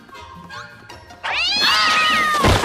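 Cartoon cats from The Loud House yowl and screech loudly as they attack Lincoln, a drawn-out caterwauling burst after a quieter opening with a few short cries.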